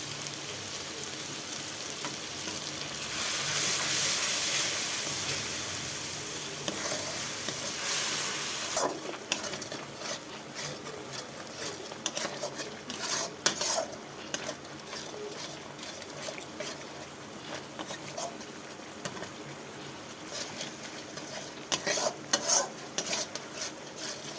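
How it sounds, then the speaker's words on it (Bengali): Spice paste masala with turmeric stir-fried in a pan: a hot sizzling burst early on, then steady frying under repeated scraping and stirring strokes of a spatula, close and fairly loud, with no talking. "মশলাটা কষানো হয়ে গেছে"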